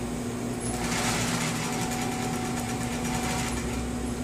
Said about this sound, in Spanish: es preferible hacer este remate dándole a la máquina con la mano y no con el pedal